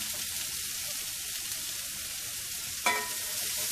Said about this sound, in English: So we'll remove the vegetables now and start cooking the meat.